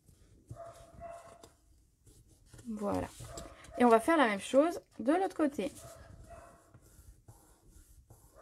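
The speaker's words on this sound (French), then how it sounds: "Vous entendez beaucoup mes chiens qui aboient là?" Dogs bark in the background in a cluster of sharp, repeated yelps, partly overlapping a person speaking French close by.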